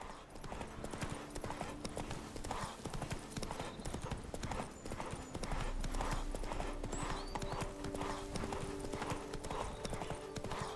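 Horse hooves clip-clop steadily while riding in the video game The Witcher 3: Wild Hunt – Blood and Wine, a constant rhythmic trot over a busy, dense game soundscape with an occasional whinny.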